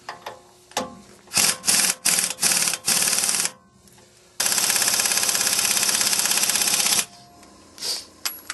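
An impact wrench on its lowest setting hammers a wheel stud through a Dodge Dana 70 hub, with several short, loud rattling bursts followed by one long, continuous hammering run and then quiet handling.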